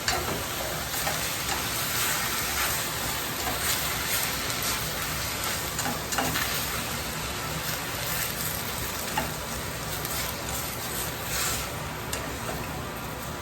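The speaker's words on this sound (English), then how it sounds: "we got the Anaheim chilies and the onion stir frying" Chilies and onion sizzle in a pan with a dense, constant crackling hiss, steady throughout with no pauses.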